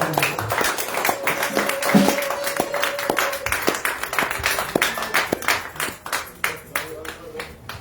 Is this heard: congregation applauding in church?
yes